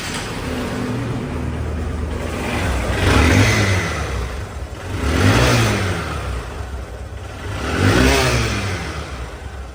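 A second-hand Honda SP Shine motorcycle idles steadily, then revs three times, each throttle blip swelling and falling away. The bike is close, with no speech.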